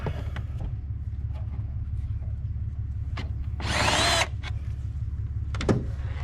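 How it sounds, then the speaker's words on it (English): A power driver whirs briefly while taking out the bolts that hold a car's MAF sensor, a single half-second burst over a steady low hum and a few faint clicks. "We're gonna take the bolts out."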